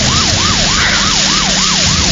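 A police patrol car siren in a Filipino radio drama, wailing loudly in fast, regular rising and falling sweeps that dominate with no talk.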